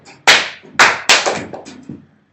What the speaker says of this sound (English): And count and clap.